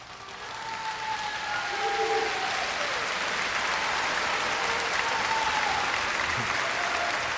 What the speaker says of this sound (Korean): 박수하라고